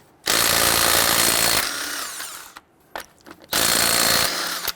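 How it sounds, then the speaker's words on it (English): A power impact wrench with a 22mm socket loosens lug nuts on a 2007-2014 Cadillac Escalade, two loud sustained bursts of rattling, buzzing tool noise separated by quieter clicks and handling sounds, close up. "we're going to go ahead, loosen and remove our lug nuts."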